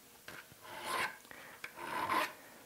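Two slow, even rasping strokes of a hand file across a woodworking chisel's bevel, close and quiet, each a rough scraping swell separated by brief pauses.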